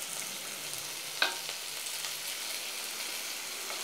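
Ingredients fry in a pan with a steady, close sizzle and crackle. A single brief clink comes early, and no one speaks.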